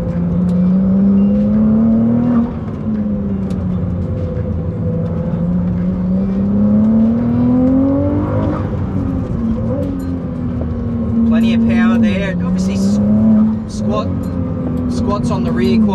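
Ferrari 296 GTB on a hot lap, its engine droning loud and close with pitch climbing and dropping through gear changes, brief whooshing blow-off bursts near the end, and someone talking over it.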